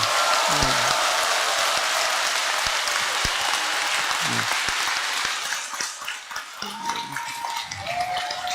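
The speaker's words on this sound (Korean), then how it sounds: "여러분들이 큰 박수로서 네" A crowd at a Buddhist dharma talk applauds loudly and continuously, a dense wash of clapping that thins slightly toward the end, with a few voices briefly audible underneath.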